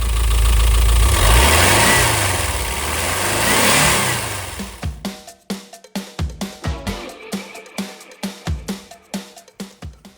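Freshly rebuilt Volkswagen Vanagon engine starting with a loud roar that settles into a steady idle, each firing pulse throbbing in an even, lumpy rhythm close by.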